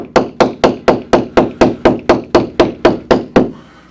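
Hammer strikes land at a steady quick rhythm on a club chair being reupholstered with stretchy fabric, about a dozen sharp close knocks with no speech.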